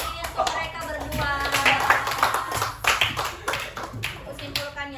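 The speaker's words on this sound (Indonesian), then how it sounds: "tepuk tangan lagi untuk mereka berdua" Junior high school students in a classroom guidance session clap their hands in a fairly quiet, scattered patter that runs for several seconds, with voices and chatter mixed in throughout.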